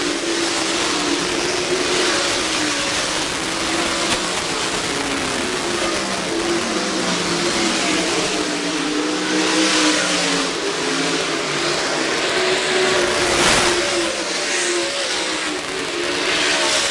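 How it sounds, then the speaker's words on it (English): Race cars roar continuously around the State Fair Speedway oval during a feature race, their engines loud and sustained, with rising and falling revs as cars pass and jostle for position. "Kyle Bellum continuing to pick off cars, makes his way around the 4 of Evan Martin."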